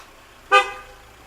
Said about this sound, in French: ne klaxonne pas